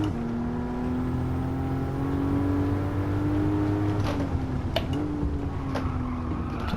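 A race car engine in Gran Turismo 7 holds a steady droning tone under throttle, then dips and shifts in pitch, with sharp clicks and tire noise near the end.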